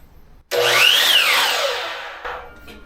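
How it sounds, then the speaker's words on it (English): Miter saw run from an EcoFlow 4kW solar generator, starting abruptly and cutting with a loud, whining, sweeping blade tone that rises and falls, then spins down with a second brief burst near the end, no talk. "Let's get started with the miter saw."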